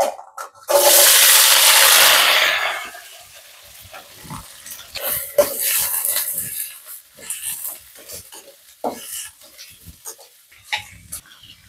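Half a kilo of sliced onions tipped into hot oil in a kadai: a loud, sudden sizzling burst that softens into quieter crackling, followed by scattered clinks and stirring scrapes.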